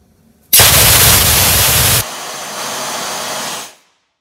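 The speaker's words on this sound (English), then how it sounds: "if I turn this tap down here, it should let out a load of pressure, and it should be pretty loud" Compressed air from a big, full tank blasts out through an opened tap: a sudden loud, steady hiss that drops to a softer rush halfway through, then tapers off and stops.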